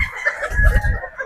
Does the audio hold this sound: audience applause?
no